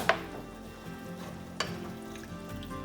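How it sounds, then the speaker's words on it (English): Shrimp and vegetable curry being stirred in a hot pan, with a steady soft sizzle and a couple of sharp utensil knocks against the pan, no voices. "Just give that a good mix"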